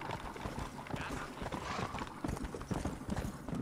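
Rapid, rhythmic clip-clop of horse hooves at a steady trot in Red Dead Redemption, close and fairly loud against a busy background.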